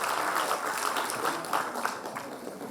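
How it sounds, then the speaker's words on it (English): An audience applauds to welcome a speaker at a scholarship event, a dense, steady wash of clapping heard up close without pause. "Ladies and gentlemen, with a loud round of applause,"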